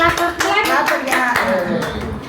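A young girl claps her hands at her birthday gift unboxing, a quick run of sharp, close claps under a lively voice and background chatter.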